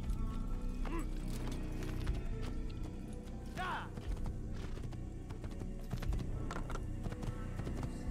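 A horse in the video game Assassin's Creed clip-clops across the ground amid quiet game ambience, with a short whinny partway through.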